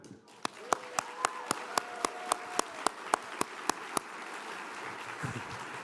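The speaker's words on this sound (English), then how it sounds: "give me a round of applause" A few seconds of sparse, sharp individual handclaps from an audience at a county State of the County address, evenly spaced and close, with a murmuring crowd behind them that swells faintly at the end.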